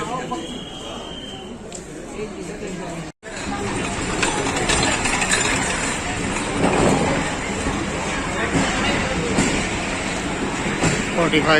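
The Pakistan Express of Pakistan Railways rolls from Faisalabad toward Rawalpindi, a continuous loud rumble and clatter from inside the carriage, with a brief dropout near the start before the steady roar resumes.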